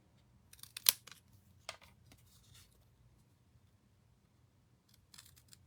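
Cardstock for a harvest-themed card being cut, a few faint, quiet snips and small paper clicks in a near-silent room, the sharpest cut near the start.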